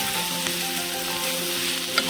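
Cluster bean pieces fry in oil with a steady, close, dense sizzle that holds level throughout, with no voices present.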